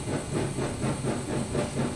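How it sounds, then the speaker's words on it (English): The burner flame of a gas forge, with its air choke opened too far, roars steadily at close range under a rapid, regular pulsing and popping. "Now let's see what happened when I open too much air choke. The flame is popping."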